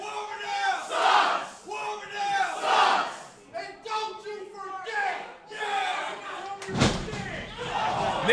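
Wrestling crowd at an indie show in Paulsboro chanting in loud rhythmic unison, a dense roar of many voices rising and falling in repeated bursts, with a heavy slam near the end.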